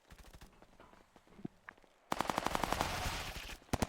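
Automatic gunfire in a first-person shooter match, scattered single shots at first, then a sustained rapid burst of close, loud firing, followed by a few more quick shots.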